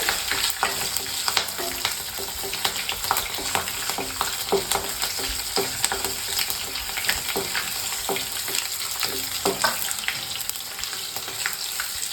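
Green and dry chillies with curry leaves roast and sizzle in hot oil in a pan for gooseberry chutney, a steady close frying crackle with frequent small pops and stirring scrapes, no talk.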